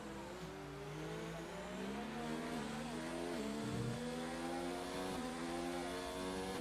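Race cars lapping Bahrain in an Xbox racing game, several engines whining and revving together with rising and falling pitch as they shift gears, loud and continuous with no voices.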